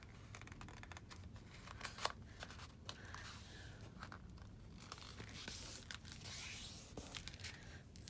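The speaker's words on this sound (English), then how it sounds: "So I'm folding it in half, making sure you line up the edges." Quiet, close crinkling and scraping of stiff kraft board being folded in half and creased, with soft rustles and a few sharper crackles, no talking.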